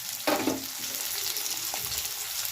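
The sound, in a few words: garlic frying in pan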